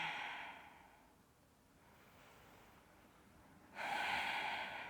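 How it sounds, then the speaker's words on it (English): Deep breaths drawn and released during a floor yoga stretch on a mat, soft airy exhales near the microphone at start and end with a quieter breath between. "Breathing deeply and letting go."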